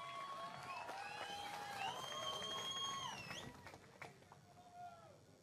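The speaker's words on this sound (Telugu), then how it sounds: "గట్టిగా రైతులందరూ చప్పట్లు." Farmers at a public rally clap together, a steady crowd applause running beneath sustained synthesized or musical tones, loud and continuous before easing off near the end.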